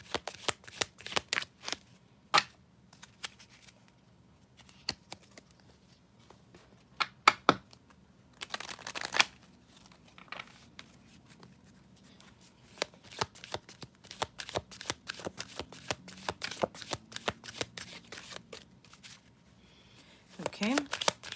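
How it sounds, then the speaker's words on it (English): Tarot cards being shuffled by hand in a series of sharp riffling bursts and soft slaps, close and fairly quiet, with pauses between bouts and a low background hum. "I need to shuffle more."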